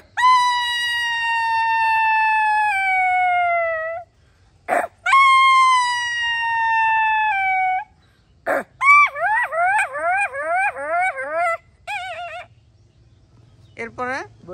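A human voice imitates a jackal howl close up: two long, sustained wavering howls that slide downward in pitch, followed by a run of quick yipping cries, with no other sound.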